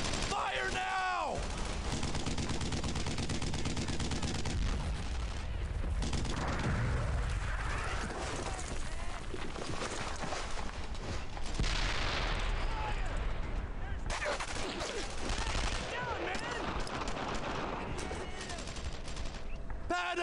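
Dense World War II battle gunfire in the video game Brothers in Arms: Earned in Blood: sustained loud rifle and machine-gun bursts with heavy booms, nearly continuous for the whole stretch, mixed with shouted voices.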